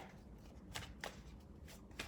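Tarot cards flipped over during a reading, giving a few soft, brief papery snaps spaced about a quarter second apart over a quiet, low background hum.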